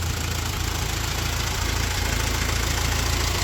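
Old Ford tractor that sat rained in for years running at idle, a continuous close engine chug with a faint knocking rhythm and no voices.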